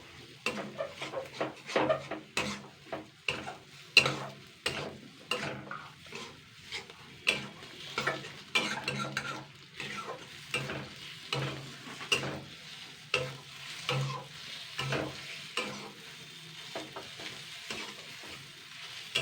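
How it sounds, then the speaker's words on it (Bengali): Fish roe frying in a kadai as a spatula stirs it, producing repeated scraping clinks and pan knocks in an irregular rhythm over a light sizzle, close and fairly quiet, with no speech. "দুই থেকে তিন মিনিট ভালো করে ভেজে নেবো আর মাছের ডিম ভাজা কিন্তু তাড়াতাড়ি হয়ে যায়"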